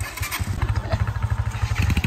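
A motorcycle engine running close by near Bassin Cap at Trou du Nord, Haiti, with a loud, rapid pulsing throb that keeps a steady rhythm for about two seconds.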